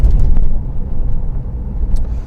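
A car travels at about 32 mph on a national speed limit road out of Sandwich toward Wingham, with loud, steady engine and tyre rumble heard from inside and no talk.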